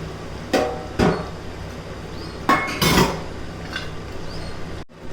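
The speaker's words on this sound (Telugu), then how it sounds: "ఈలోపు నేను నిమ్మకాయలు కట్ చేసుకొని జ్యూస్ తీసుకుంటానండి" Lemons cut on a hard surface for a Guntur-style chicken pickle: several sharp knife knocks and clatters spaced irregularly over a quiet background, close and fairly loud.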